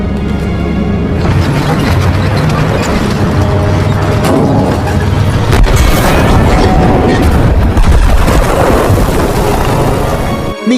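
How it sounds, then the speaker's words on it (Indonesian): A grenade explodes against a German tank in a World War II film, a loud, sustained rumbling blast with crashing debris and a low roar that fills the whole stretch. "Alexei mengambil granat dengan cepat, melemparnya tepat di tank Jerman."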